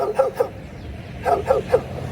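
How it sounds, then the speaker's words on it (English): Junkyard dogs bark beside a trail near a bus terminal, a few short yapping barks in two quick clusters, moderately near over light outdoor background noise. "Look, there's even junkyard dogs."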